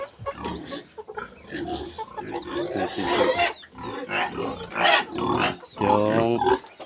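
Pigs grunting and squealing close by, a busy run of rough, overlapping oinks with no talking.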